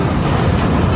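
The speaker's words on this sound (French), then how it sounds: "C'est un train qui nous mène sur Odaiba." Yurikamome automated train running to Odaiba, Tokyo, a steady loud rumbling roar of the moving car throughout, with no talking.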